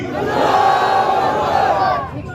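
A large crowd at an outdoor political rally roars back a religious slogan in unison, a loud, sustained collective shout lasting about two seconds before fading.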